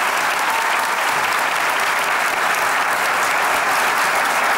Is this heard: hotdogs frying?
no